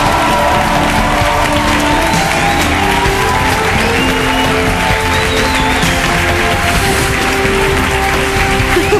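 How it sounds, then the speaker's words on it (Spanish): A dense, loud studio audience at a reality TV gala breaks into sustained applause and cheering, a steady roar of clapping with shouts that stays constant throughout. "Fuerte el aplauso para Raquel Sánchez Silva"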